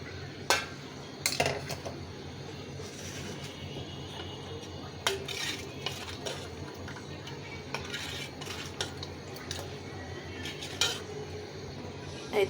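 Eggs and milk are whisked together in a bowl for a pudding, with a utensil clinking and scraping against the bowl in irregular strokes, close and fairly quiet, with sharper clinks now and then.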